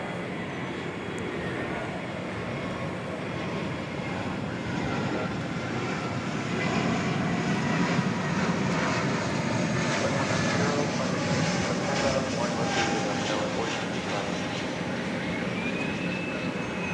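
A Boeing 787-9 departs from DFW Airport with a steady, moderately distant jet roar that swells slightly around the middle and holds as a continuous broadband rumble, with no voices.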